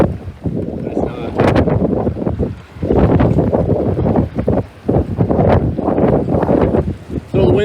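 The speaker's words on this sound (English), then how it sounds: "So the winds are still blowing about 17." Strong wind buffets the microphone on a moving boat out on choppy water, a loud continuous roar rising and falling in gusts over the hull and water noise.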